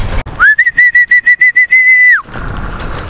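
A person whistles to call a pet, a quick fluttering trill on one high note, held, then sliding downward.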